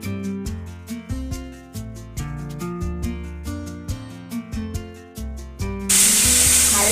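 Thick-cut pumpkin pieces drop into hot oil over a high flame and burst into a loud, close, hissing sizzle near the end. Background music with steady melodic notes plays before it.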